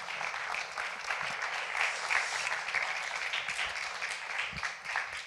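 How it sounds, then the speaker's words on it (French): An audience at a church evening service breaks into steady, sustained applause from a crowd, heard at a moderate distance throughout. "On peut l'applaudir."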